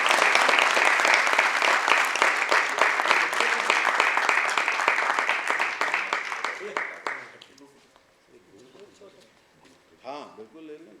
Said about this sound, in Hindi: तो एक बार जोरदार तालियां आपके लिए।